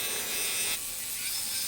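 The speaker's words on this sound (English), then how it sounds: "Here I am applying the Axe sanding abrasive, which just makes the grain pop" Wood is sanded by hand with an Axe sanding abrasive, giving brisk, close rasping strokes that change texture partway through. No voices are heard over it.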